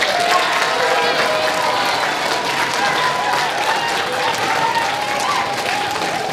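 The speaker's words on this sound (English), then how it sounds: "please thank your parents with a round of applause." Students in a fifth grade class at an elementary moving-up ceremony give their parents a round of applause, a dense, steady wash of clapping with some cheering that fills the room throughout.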